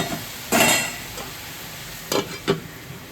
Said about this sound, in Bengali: তরকারিটা আরেকবার নাড়িয়ে দিচ্ছি।